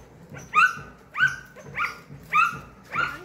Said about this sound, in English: The dog barks at the girl.